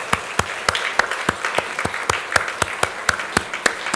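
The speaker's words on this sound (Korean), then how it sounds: "예, 우리 박수로 우리 격려하고 인사하겠습니다." A church congregation applauding during a Sunday morning service, dense steady clapping with a few sharp claps standing out, loud and continuous.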